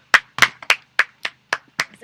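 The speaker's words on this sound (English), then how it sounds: "The crowd goes wild." Sharp, spaced claps from spectators at a cricket grand final in Prague, about eight distinct hand claps in a loose, slightly uneven rhythm, close and clear with no other sound.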